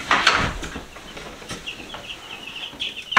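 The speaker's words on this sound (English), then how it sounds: "Getting the little chickies nice and warm." Baby chicks in a brooder box chirping close by, a series of small high peeps with a few louder bumps and rustles, no talking.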